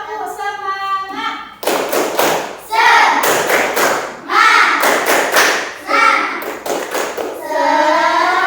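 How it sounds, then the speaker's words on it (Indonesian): Schoolchildren in a classroom doing a rhythmic 'tepuk semangat' chant-and-clap routine: loud bursts of group clapping in patterned beats, mixed with children's chanting voices, before the lesson begins. "mari kita tepuk semangat dulu"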